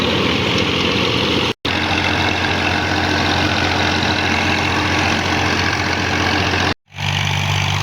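Massey Ferguson 240 tractor with a 48-blade rotavator running smoothly, a loud, steady low diesel drone with constant mechanical churn, broken by two brief cuts.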